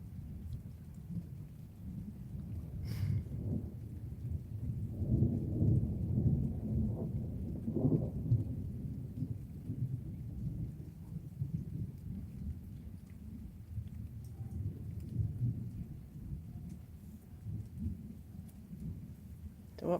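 Thunderstorm with steady rain, a continuous hiss of falling rain under repeated low rolling rumbles of thunder that swell and fade through the middle, with a few sharper cracks and faint background voices.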